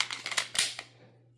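A metallic magazine clicks into a CZ P-06 .40 S&W pistol: a quick run of sharp, close clicks and rattles with one firmer snap, then a fading ring.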